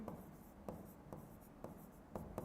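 Faint, close scratching of marker or chalk on a board, several short strokes spaced about half a second apart, quiet and with no talk over it.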